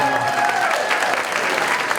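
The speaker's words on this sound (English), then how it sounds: "let's give Carl a big round of applause" Applause for a speaker at the close of an evening gathering, dense steady clapping from a room full of people over two seconds.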